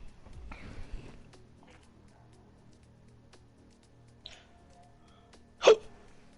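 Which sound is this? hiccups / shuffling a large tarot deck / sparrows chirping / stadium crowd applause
hiccups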